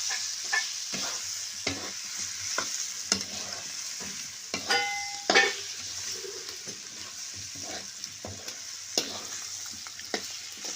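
Onion and potato curry with coriander powder is stirred in a sizzling pan, a constant frying hiss broken by scattered scrapes and clinks of the spoon against the pan.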